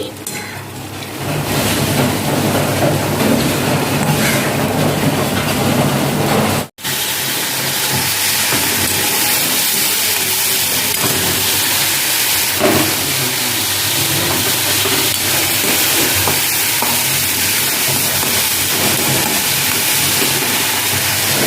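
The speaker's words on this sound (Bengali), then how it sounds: "এই বড়াগুলো আমি এখন ভেজে নিচ্ছি।" Chhana (cottage cheese) fritters fry in oil with a continuous, dense hiss and bubbling, steady and close throughout, with one brief dropout early on.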